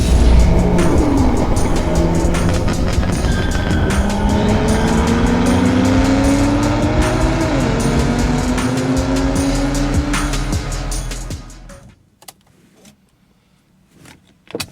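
A BMW M6 with a swapped S85 V10 and DCT gearbox drives hard, its engine climbing through rising revs with gear changes and sweeping pitch, loud and close from inside, then cutting to near quiet at the end.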